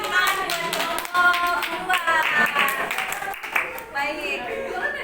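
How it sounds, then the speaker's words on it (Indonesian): Students in a classroom applaud a group after a drama performance, brisk close clapping from many hands with voices mixed in. "Aplaus untuk kelompoknya."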